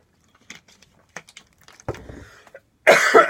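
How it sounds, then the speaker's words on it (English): A person coughs and clears their throat in several short, separate bursts, ending in one louder, harsher cough close to the microphone. "there could very well be a lot of coughing in this video."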